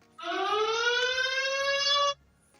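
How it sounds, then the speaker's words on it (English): A single electronic warning alarm tone from a Fossibot F101 rugged phone rises slightly in pitch and holds for about two seconds before cutting off abruptly, clear and close with quiet around it. "You can activate the warning alarm."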